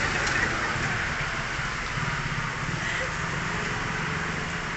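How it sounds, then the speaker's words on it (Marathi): Rain falls steadily as a dense, even hiss with a low rumble beneath, at a moderate level throughout, and a voice talks faintly in the background. "बघा पावसानं सुरुवात केली"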